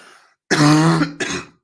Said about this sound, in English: I'll try not to cough down the mic again.